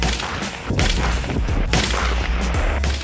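A rifle fires a 146 grain VLD bullet: one loud, sharp blast with a booming low body and a rolling echo that fills the whole moment, nearby and with no talk over it.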